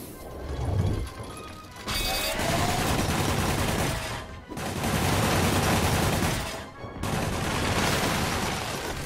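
Gunfire in Marvel's Spider-Man, loud sustained volleys of shots mixed with crashes and mechanical clatter, broken by short pauses.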